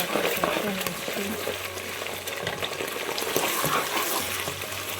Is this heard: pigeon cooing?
no